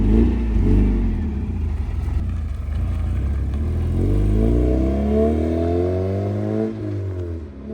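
A restored 1994 Mazda MX-5 Miata pulls away, its engine note rising through the gears as it accelerates and gradually fades into the distance.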